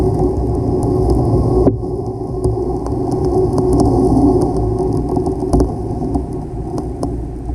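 Boat engine idling and backing down against an anchor line, a steady loud low rumble with wind noise over the microphone and occasional knocks, continuous throughout.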